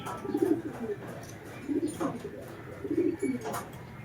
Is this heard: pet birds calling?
yes